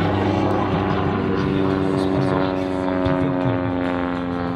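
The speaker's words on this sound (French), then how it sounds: "notre Super Cub qui est actuellement en vol" A Piper Super Cub propeller airplane flies a display at the Gap-Tallard air show, its steady engine drone loud and continuous throughout, with a faint voice underneath.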